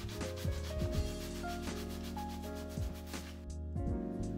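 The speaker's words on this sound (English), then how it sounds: "I'm just gonna scrub my scalp really good." Hands scrub a scalp lathered with Dove shampoo on natural, textured hair, making soft, quiet, repeated rubbing strokes close up, with faint tonal sounds in the background.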